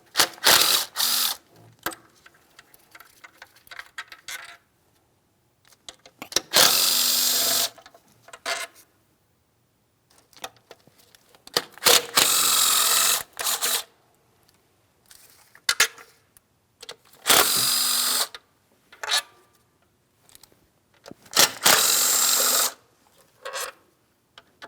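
Intake manifold bolts come off a 3.5L Ford Edge engine with a ratchet, heard as several close, loud bursts of rapid clicking separated by quiet pauses.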